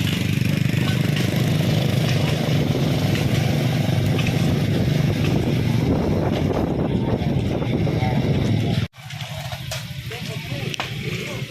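Motorcycles in a road race roar loudly and continuously as they pass nearby, with wind buffeting the microphone, a sudden brief cutout near the end, and people talking over the noise.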